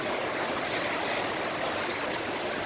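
River water rushing beneath a bridge in Metro Manila where informal settlers live, a loud, continuous broadband flow with no talk.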